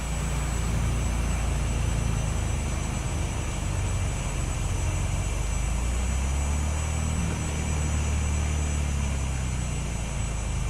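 Steady drone of a propeller airplane engine in Microsoft Flight Simulator 2024, continuous and fairly loud with a deepening low rumble midway, no talking.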